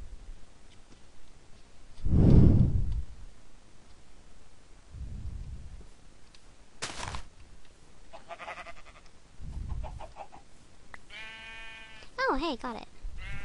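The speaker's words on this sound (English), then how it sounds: "Oh, sheep." Sheep bleating in the video game Minecraft, with a couple of distinct wavering bleats close by near the end, set among soft game sounds and a low rumble while someone talks casually over the top.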